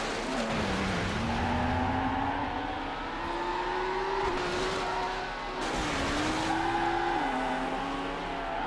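A race car in Need for Speed: Hot Pursuit 2 drives off-road with a constant engine drone that rises and dips as it accelerates, under continuous tire skidding and rough surface noise.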